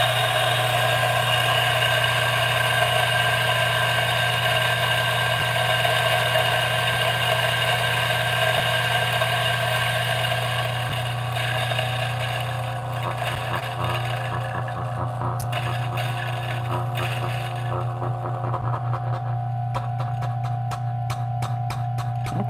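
A DF64 coffee grinder runs steadily, grinding coffee beans with a constant motor drone and buzzing hum that holds for about twenty seconds before the grind thins out into a lighter whir near the end.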